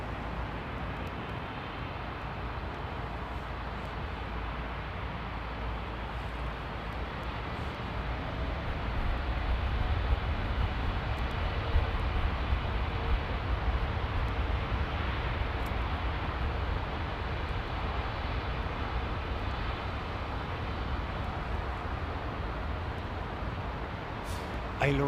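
A Boeing 787 takes off from Heathrow runway 09R with a broad, steady engine roar that swells partway through and then holds loud.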